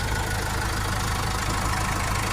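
Range Rover Evoque 2.2 diesel engine idling nearby, a steady low rumble with a fast, even diesel clatter throughout.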